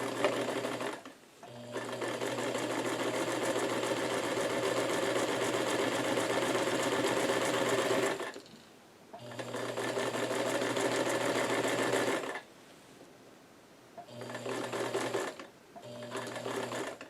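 A sewing machine stitches seams in newsboy cap fabric wedges, running in long steady whirring bursts with a couple of short pauses and a few brief final runs, close and alone.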